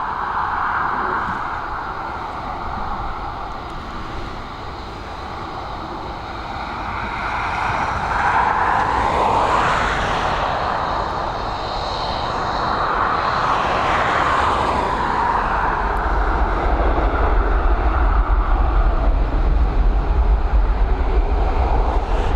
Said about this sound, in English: we're heading to Naples now with this Boeing 737